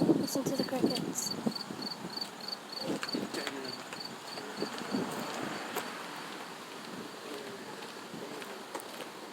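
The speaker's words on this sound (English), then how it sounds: "Listen to the crickets." Crickets chirp outdoors on a windy evening, a steady rhythmic trill carrying through the air while a few brief voices and rustles sound early on, then fading to a quieter, even chorus.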